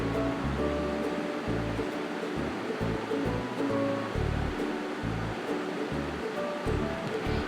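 Minced beef sizzles and fries steadily in a pan, a continuous close crackling hiss with no pauses and no one talking.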